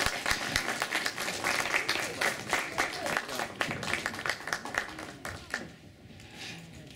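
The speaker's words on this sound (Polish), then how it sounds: "Brawa dla pani Daria." An audience at an integration gathering in Warsaw claps steadily for several seconds, dense and fairly close, with some murmuring, then the applause thins toward the end.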